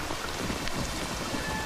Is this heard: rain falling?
yes